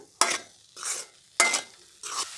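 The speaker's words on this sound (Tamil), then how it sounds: "அனல் குறைச்சி வச்சு வதக்கினா தான் நல்லாயிருக்கும்" Grated carrot is stirred and sautéed in a pan on a low flame for carrot jam, heard as four scraping stirs at a steady rhythm over a soft sizzle, close up, with no speech.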